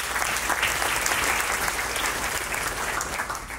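A large audience applauds steadily at a 2024 kick-off event, the dense clapping filling the room evenly from start to finish with no voices on top.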